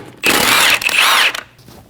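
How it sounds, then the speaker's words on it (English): A power tool spins out the lug studs with a 17mm socket on a 2012-2022 Volkswagen Passat, giving two loud, close whirring bursts of about a second each with a short break between them. "Using a 17mm socket, remove the 5 lug studs."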